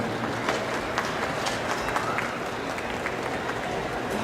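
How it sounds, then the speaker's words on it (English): Audience applause at an outdoor exhibition show in Toronto, a dense steady clapping from a crowd that carries on evenly throughout, with scattered sharper claps standing out near and far. "let's give our showmen a good round of applause for the show they put on here today"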